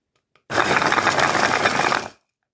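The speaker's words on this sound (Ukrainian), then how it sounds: "Крихту розбиваю у блендері." A blender crushing meringue crumbs whirs loudly for about a second and a half, a dense grinding buzz that starts abruptly and cuts off, with no talking.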